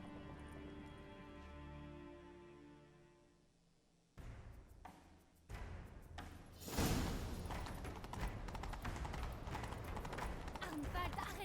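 Horses gallop in The Witcher, a fantasy role-playing game. The clattering hoofbeats build in after a stretch of music and grow into a loud, steady, dense gallop that runs to the end.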